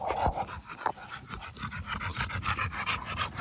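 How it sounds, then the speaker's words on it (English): A young male dog challenging an older dog, heard as rapid panting and huffing close by with a sharp yelp-like burst early on, rough and continuous. "What he's doing right now is kind of challenging Bishop"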